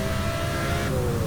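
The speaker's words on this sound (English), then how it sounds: "That did not sound good on the engine." A car engine roars at high revs in the racing game Need for Speed: Hot Pursuit (2010), a steady, loud, dense drone with a strained tone throughout the short stretch.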